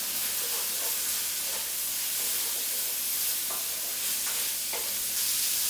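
Mushrooms and garlic brown in a hot pan, a continuous close sizzle and hiss broken by several scraping stirs, with no one talking.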